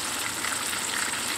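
A short burst of tilapia frying in vegetable oil, a dense crackling hiss with no voices.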